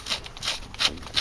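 Wood is scraped up in a burning-down fire, four short rough rasping strokes at an even rhythm, close and fairly quiet.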